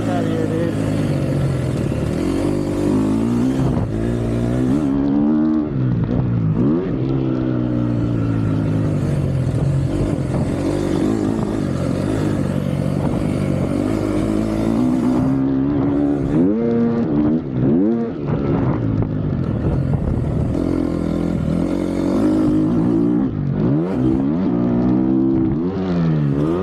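A GasGas MC250F Factory Edition four-stroke dirt bike is ridden hard, its engine repeatedly revving up and dropping through gear changes in sweeping rising and falling whines, loud and close, with wind noise throughout.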